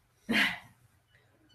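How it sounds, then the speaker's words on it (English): A dog gives a single loud bark or yelp at close range indoors, followed by a short quiet stretch and a faint sound near the end. "That is my dog, Sam"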